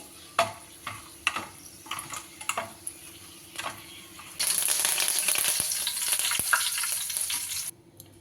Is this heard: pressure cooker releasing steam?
no